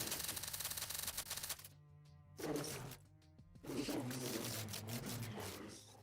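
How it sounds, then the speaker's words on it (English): A video game character's voice made of rapid, clattering typewriter-like typing blended with disturbing gurgling, loud and dense, broken by two short near-silent gaps before resuming. "how he talks is like rapid typing of a typewriter mixed with some disturbing gurgling"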